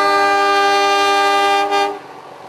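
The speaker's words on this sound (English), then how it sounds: "its engine chuffing and whistle blowing" Steam locomotive on Queensland's Mary Valley Heritage Railway sounding a long, loud, steady whistle blast close by that cuts off near the end, leaving quieter rumbling.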